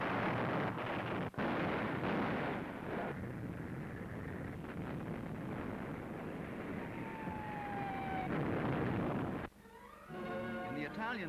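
Dense artillery shellfire from a wartime WWII invasion forms a continuous loud roar of booms and rumble on an old, noisy recording.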